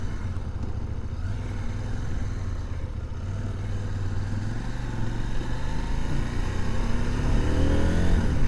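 An Ibex 800T motorcycle engine revs and accelerates on a ride, a steady close engine drone rising in pitch and growing louder toward the end, with no talking.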